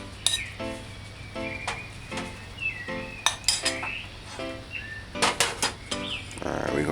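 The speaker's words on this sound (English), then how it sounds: "cut the carrot in little wheels" A knife cuts a carrot into little wheels on a board, giving a run of crisp, uneven chops and clinks close by, some in quick clusters, with a steady low hum behind them.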